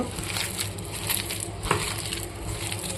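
Chopped onions and chili powder are crushed and squeezed by hand in a pot, producing a continuous close, soft crunching and squelching with small clicks, and no talking.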